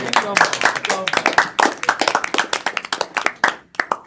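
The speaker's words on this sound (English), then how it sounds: "So can we get a quick round of applause for Patrick?" A brief round of applause from a small group at an advisory council meeting, individual claps distinct and rhythmic, fairly close, thinning out toward the end.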